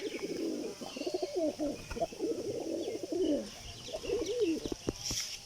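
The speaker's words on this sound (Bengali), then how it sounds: "আমার কবুতর দুটো আছে, এই যে আমার এই জোড়া" Soft, rolling pigeon coos repeat in several low bursts against steady background hiss, fairly close but not loud.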